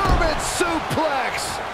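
A heavy body-slam impact from a German suplex in the WWE 2K20 wrestling video game, one deep thud right at the start, followed by excited commentary.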